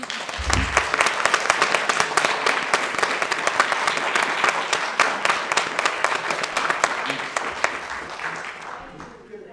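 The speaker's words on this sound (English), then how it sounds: "Can you give them a big round of applause?" A roomful of people at a school board meeting gives sustained applause, a thick crackle of many hands clapping at steady strength before tapering slightly at the end, with voices mixed in beneath.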